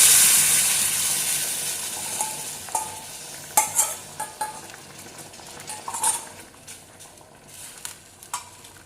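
A ground spice paste for prawn curry sizzles in a pan, with repeated scraping and clinking stirring strokes over a low, continuous frying hiss.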